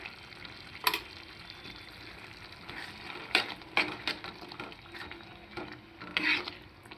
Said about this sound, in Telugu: మసాలా అవసరమైనంత వేసుకున్న తర్వాత బాగా ఇలా కలబెడితే